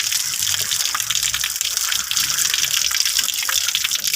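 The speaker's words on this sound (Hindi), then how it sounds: "ये 2 टमाटर लगे हुए हैं, ये मैंने तोड़ लिए हैं और मैं धो रही हूँ ये इसको।" Water from a tap runs over freshly picked tomatoes as they are washed, a steady, close gush of running water with no break.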